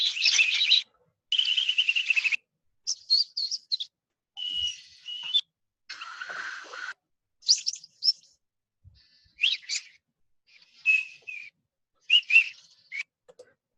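Synthetic birdsong produced by a generative adversarial network: a string of short whistled chirps and buzzy tweets in separate bursts with silent gaps, clean and fairly close, no voices.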